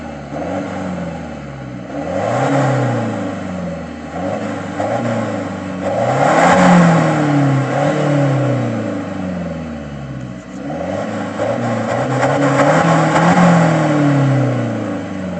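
A BMW 1 Series 125d with a biturbo diesel engine accelerates in repeated pulls, its engine note rising and falling through several gear changes, clearly heard from close by with no talking.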